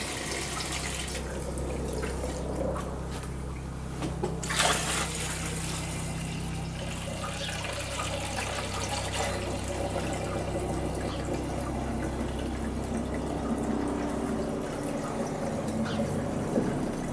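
Homemade rhubarb wine pours steadily into bottles, a continuous close liquid trickle and gurgle filling each bottle, with no talking over the flow.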